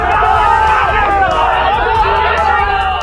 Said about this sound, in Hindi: गुस्साई भीड़ विधायक की गाड़ी को घेर कर नारेबाजी करने लगी।